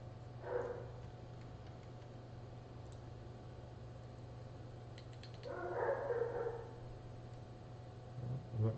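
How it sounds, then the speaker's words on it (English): A dog barks nearby in two short bursts, one early and one later, over a steady low hum with quiet workshop ticking between them. "Dog's acting crazy."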